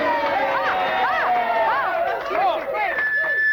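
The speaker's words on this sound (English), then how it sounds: "You gave her a premature cheer then" A studio audience on a live British breakfast TV show in 1993 lets out a loud burst of cheering and whooping, a dense, continuous crowd roar with rising and falling voices.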